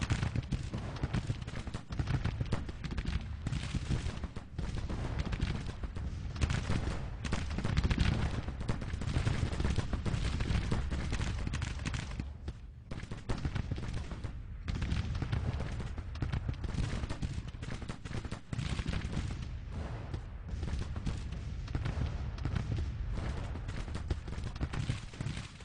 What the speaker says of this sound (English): Our superior weapons here, with Fagan armed with Mississippi rifles, is causing him some problems